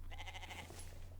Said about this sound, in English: I hear you, sheep.